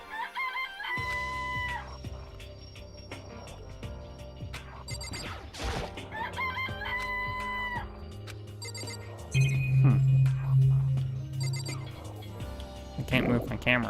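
Chickens crowing and clucking amid electronic game sounds and ringing tones in the game Danganronpa, with a voice talking over parts of it.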